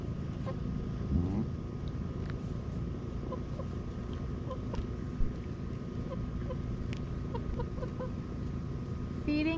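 Chickens cluck and squawk in short bursts while eating fish carcasses, amid a steady low rumble of background noise, with a few sharper calls standing out.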